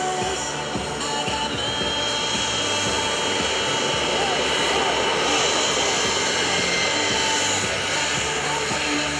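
The Northeast Raiders formation of five aircraft flies past at the 2011 Boston Portsmouth airshow, a steady engine roar filling the sky for the whole stretch while a commentator talks over a public address system.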